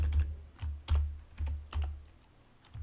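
Close, quiet keystrokes on a computer keyboard come in a quick, uneven rhythm of soft clicks with low thumps between them, and no one speaks.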